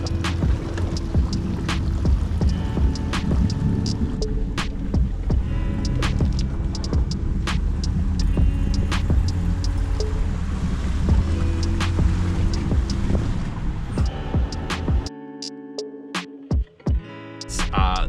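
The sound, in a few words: water gurgling into Jeep skid plates on a trail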